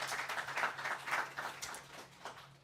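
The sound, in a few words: audience round of applause at forum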